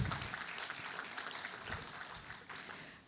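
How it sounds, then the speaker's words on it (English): An audience at a book event gives a round of applause for an introduced guest, a soft, continuous wash of clapping heard from a distance and fading toward the end. "A huge round of applause for him"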